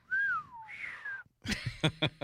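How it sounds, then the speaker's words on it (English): A man whistling a few short notes, a falling glide then a rising one, followed by quick sharper whistled chirps, close and alone. "If I was a better whistler, I would have whistled there."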